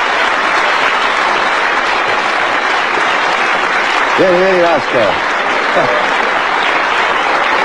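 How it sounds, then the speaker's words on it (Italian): Steady studio audience applause greeting Vasco Rossi on an Italian TV show, a dense continuous clapping wash throughout, with a host briefly calling out over it midway. "facciamogli un applauso"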